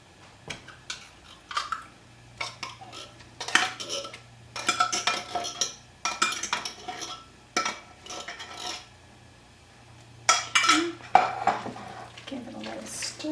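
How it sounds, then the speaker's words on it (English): A spoon scrapes and knocks against a pot while mushroom soup is stirred into a macaroni tuna casserole, coming as irregular clattering bursts with quiet gaps between them. "Give it a little stir."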